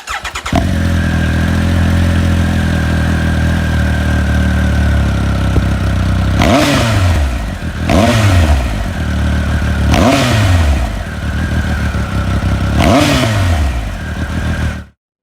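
A Triumph Speed Triple RS motorcycle engine idles loudly and steadily up close, then is blipped through four sharp revs that rise and fall back to idle before cutting off.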